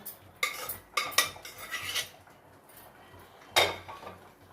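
A spoon stirs sago and moong dal payasam in a metal pot, giving a few sharp clinks and scrapes in short separated bursts, close but fairly quiet with no voices.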